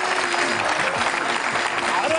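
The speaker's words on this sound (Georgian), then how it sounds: "არაჩვეულებრივი უდიდესი ტაში" An audience at a live comedy show applauds in a steady, even wash of clapping, with a voice speaking over it throughout.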